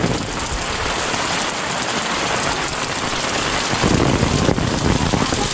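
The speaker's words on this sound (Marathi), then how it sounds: "आता पाऊस पण पडतो ना तर थोडासा कॅमेरा पण भिजायचे चान्सेस आहेत" Steady rain falls over a village in the Konkan hills at Ambavali, Mandangad, a dense even hiss of drops on surfaces with a slightly heavier patter near the end and no voices.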